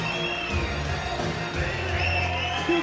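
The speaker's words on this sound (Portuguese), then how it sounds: "Uma salva de palmas pro nosso garçom." Comedy club audience applauding and whooping for a waiter, a continuous crowd roar with shouts and cheers at moderate level, no single voice standing out.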